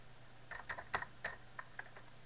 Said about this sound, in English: I'm going to type select star from students